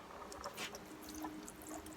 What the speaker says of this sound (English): So what I should do at this point is water it in a little bit.